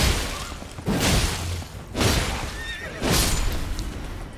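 Horses in the video game Elden Ring neigh and whinny in three loud, separate bursts about a second apart, each a bright rising cry over background game rumble.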